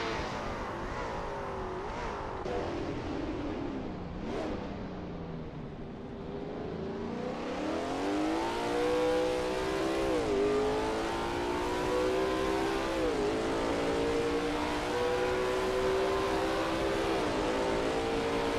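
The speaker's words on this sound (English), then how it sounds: "There's not much better than sitting near here and watching the cars speed by." Lola T70 MkII Spyder racing cars roar past at Spa in a racing game, engines rising in pitch and swelling loud as they approach and sweep by, then a steady high engine drone holding close with brief gear-shift dips.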